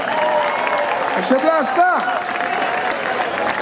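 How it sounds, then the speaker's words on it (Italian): A festival audience in Martano claps steadily as a loud voice calls out a name over the applause. "Forte l'applauso per Ascellasta, forte!"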